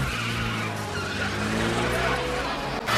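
Tires squeal and skid loudly and continuously during a film car chase, with a roaring engine underneath and a brief burst of extra noise near the end.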